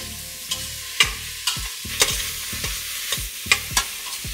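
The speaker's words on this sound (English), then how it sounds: "the oil is hot, so I'm gonna add the shallots, the ginger, and the onions" Shallots, ginger and onions sizzle in hot oil under a steady frying hiss, with regular scraping clacks from stirring about twice a second, close and clear, with no talking.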